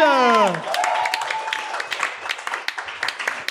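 A live podcast audience applauds as a guest walks on stage. A sustained patter of clapping follows a voice at the start and continues steadily.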